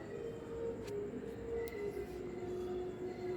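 A grinder churns rice batter with salt for Thanjavur-style kara adai, a steady, even motor drone with a faint whine running continuously throughout, unbroken and without speech.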